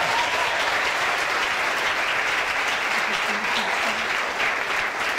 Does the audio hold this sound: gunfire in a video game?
no